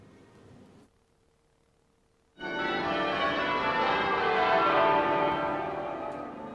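Westminster Abbey's church bells peal loudly and continuously at the Queen Mother's 2002 funeral, breaking in suddenly after a near-silent pause and ringing on with dense overlapping strikes.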